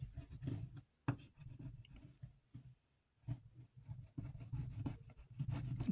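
Copper tape being burnished down onto a slot-car lap counter track: soft, close scratchy rubbing strokes in quick irregular bursts, with a couple of short pauses, quiet overall.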